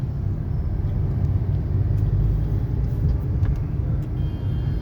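A car on the road during a driving lesson, heard from inside as a steady low engine and road rumble with no talking.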